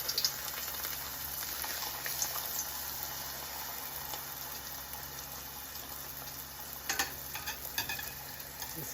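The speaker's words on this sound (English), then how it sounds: "Our oil is smoking hot, and in goes tostada number 1." Corn tortilla frying in smoking hot oil as a tostada, a steady close hiss and sizzle with a few brief crackles and pops near the end.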